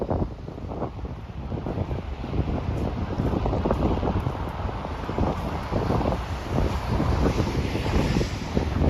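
Strong wind buffets a microphone outdoors on a Saturday night in Moscow, producing a continuous loud, low rumbling roar with gusty surges throughout and no clear voices.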